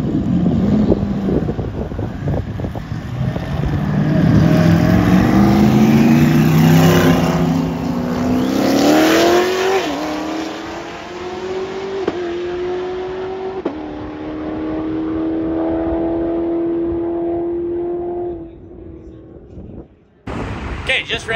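A 2019 Corvette ZR1 on a roll racing qualifying pass accelerates hard, its engine note climbing through several gear changes, loud and close with wind noise, then settling into a steady high drone before cutting off.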